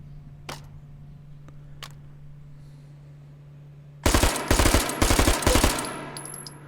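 A machine gun fed from a 100-round drum in the VR shooter H3VR: after a few faint clicks and a steady hum, a loud, sustained burst of rapid automatic fire rattles on for over two seconds with brief stutters, then fades.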